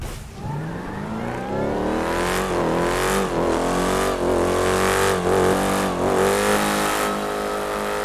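Car in a GTA 5 video game drag race accelerating with nitrous, its engine tone climbing steadily with a few quick dips at gear shifts, loud and alone without talk.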